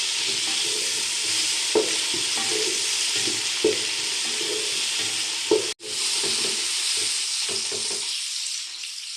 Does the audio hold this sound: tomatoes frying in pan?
yes